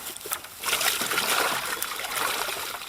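Water pours into a pig's water bowl that sits unlevel and spills straight back out, a close, steady trickling and splashing that swells after a soft start and runs continuously to the end.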